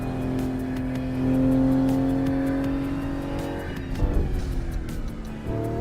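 A BMW car on the road, engine droning steadily before slowing under braking, with a rougher rumble and a brief rise near the end.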